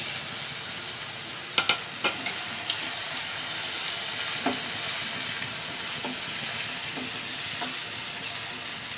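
Tomatoes sautéing with ginger and garlic paste and masala in a pan, a steady loud sizzle with a few sharp clinks and occasional stirring scrapes.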